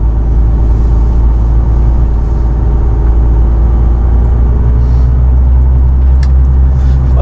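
A truck drives along a road carrying its driver to load an excavator, the steady loud engine rumble and road hum filling the cab continuously with no break.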